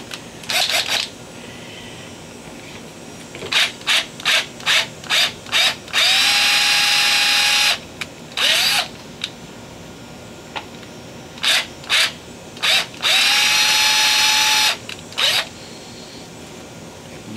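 A power drill revs in short bursts and two longer whirring runs, loud and close, with brief pauses between triggers, outdoors on a front porch.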